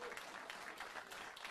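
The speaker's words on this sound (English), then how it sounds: "Delayed clapping." Scattered, delayed audience clapping, faint and distant, a loose patter of hand claps lasting under two seconds with no voices.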